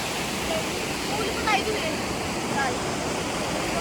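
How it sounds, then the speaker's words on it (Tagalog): A river flows with a steady broadband rush of water, close and constant throughout, while people talk briefly over it. "Yan, maganda ilog ito."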